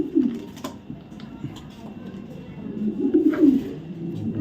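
Racing pigeons of foreign bloodlines coo in low, rolling bursts, strongest near the start and again toward the end, with faint background noise throughout.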